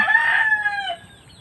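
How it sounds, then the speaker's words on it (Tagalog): A rooster crows loudly and close by, one drawn-out call that trails off into quiet. "kasi ayan po yung mga manok niya."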